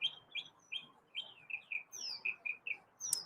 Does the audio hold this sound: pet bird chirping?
yes